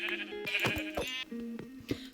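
Several Minecraft sheep bleat in a row, short nasal wavering calls overlapping one another, close and clear, with no speech.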